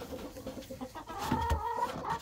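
Chickens cluck softly in a busy backyard coop with new chicks and eggs in the nesting box, a few short, close calls rising over low rustling and a faint background hum.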